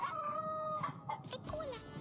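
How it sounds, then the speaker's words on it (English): A rooster crows in the kingdom-management game Yes, Your Grace, one drawn-out call with a clear rising and falling tone, followed by a few shorter clucking notes at close range. "A rooster."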